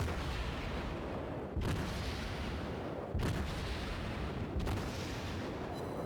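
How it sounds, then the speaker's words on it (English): Naval guns fire in salvos in the World of Warships video game, with three or four loud booming blasts spaced about a second and a half apart over continuous engine and sea rumble. "by the time I finish the salvo, all the other guns are already replenished"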